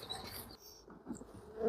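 Honey bees from a freshly hived swarm, a soft droning buzz that wavers in pitch over a brief moment, close but fairly faint, with no speech.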